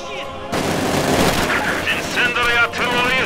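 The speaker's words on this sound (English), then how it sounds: "They are shooting at us." Gunfire rattles in Company of Heroes 2, with loud bursts of machine-gun and rifle shots and booms packed together over a few seconds, mixed with voices.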